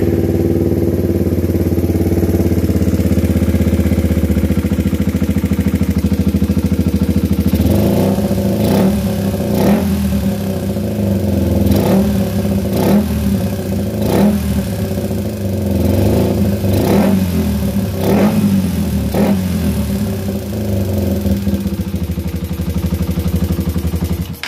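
A freshly overhauled Rusi Raider 150 motorcycle with a manual cam chain tensioner idles loudly and close by, then revs in a series of sharp, evenly spaced blips with a noisy mechanical clatter underneath.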